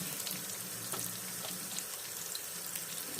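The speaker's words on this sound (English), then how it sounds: "Let's do wash these hands." Hands being washed under a running kitchen tap, a steady broadband rush of water with faint splashy clatter, continuous and fairly close throughout, with no talking.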